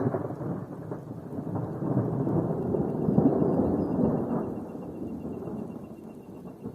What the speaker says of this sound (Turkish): Ondan sonra gök gürültüsünü dinleyeceksin.